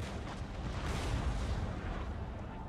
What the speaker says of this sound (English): our other cannons have opened fire